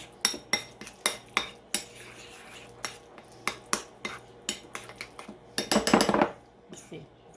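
A utensil stirring egg salad with parsley in a bowl, a regular series of sharp clinks and scrapes against the dish, ending in a faster flurry of scraping.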